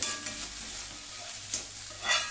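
Ivy gourd stir-frying in a little oil, a close sizzle broken by several scraping stirs of a spatula against the pan, with no talk.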